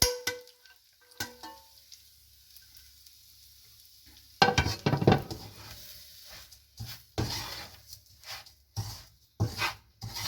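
Roasted flour and grated coconut with salt being stirred in a hot pan for a paniyaram and kozhukkattai mix, giving soft scraping and gritty sizzling bursts after a quiet start, close and fairly loud in irregular strokes.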